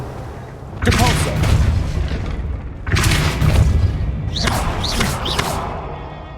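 Depulso spell casts in Hogwarts Legacy, heavy booming magical blasts in three loud bursts with swirling whooshes and ringing tails, close and powerful.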